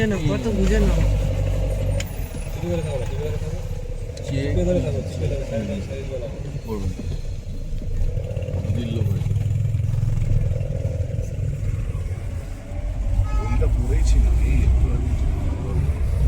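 A car engine hums and rumbles steadily while driving along a road toward Teesta, with road noise throughout. People inside talk over it.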